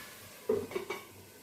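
A lid set down onto a cooking pot on the stove, one soft metallic clatter followed by a couple of lighter settling clinks, close by and otherwise quiet.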